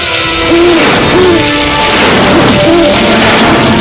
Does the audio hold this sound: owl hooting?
yes